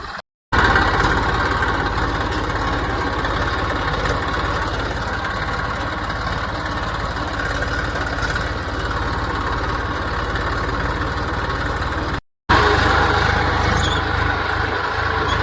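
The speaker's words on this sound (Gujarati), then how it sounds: "જો ટ્રેક્ટર હાલે છે ભાઈ" Tractor engine running steadily under a heavy full load, a close, low, continuous idle-like rumble with vibration that holds evenly throughout, briefly broken by two short gaps.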